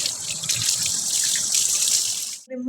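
A tap runs in a steady, close gush while a face is washed, then cuts off abruptly at the end, leaving a few drips.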